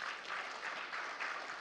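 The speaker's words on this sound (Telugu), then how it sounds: "మీరు ఒక్కసారి గట్టిగా చప్పట్లు కొట్టండి." An audience at the Akhanda 2 film celebration event applauds. The clapping is faint and even, carrying steadily through the whole moment with a slight pulsing rhythm.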